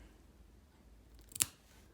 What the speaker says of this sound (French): on va aller couper juste avant la veine le petit bout ici